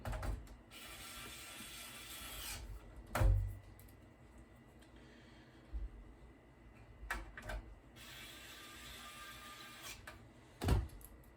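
Screws are driven into a Pentium II motherboard during a Windows 95 PC build, heard as quiet mechanical ratcheting and scraping with a few sharp knocks against a low background hum, no talking.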